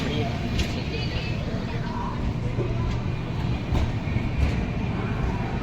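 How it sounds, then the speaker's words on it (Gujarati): Steady rumbling of a train in motion, a dense low roar with faint clatter and voices murmuring in the background. "ફાઇનલી આપણે ટ્રેનમાં ચડી ગયા છે"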